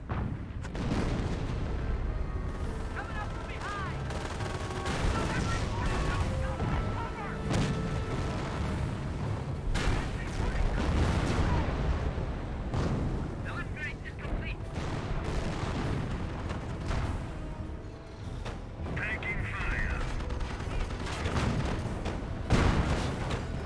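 Gunfire and artillery-style booms strike a Hellcat tank destroyer in the Company of Heroes strategy game, steady repeated shots and blasts running throughout under a voice commentating.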